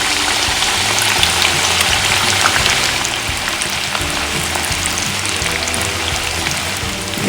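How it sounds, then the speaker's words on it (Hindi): Onions added to hot oil in a pan for chicken tikka biryani sizzle and fry with a steady, dense hiss and crackle that continues the whole time, with no talking over it. "अब हम प्याज को डाल देते हैं इसमें।"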